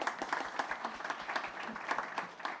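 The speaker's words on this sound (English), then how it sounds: "I think we should applaud that." A panel audience at a resilience discussion gives a short, moderate round of clapping, the claps distinct and rhythmic, with a voice faintly present underneath.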